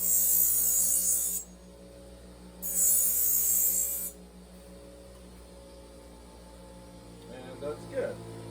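Knife blade pressed against a running belt grinder, two bright hissing passes of about a second each over a steady motor hum, with a voice speaking near the end.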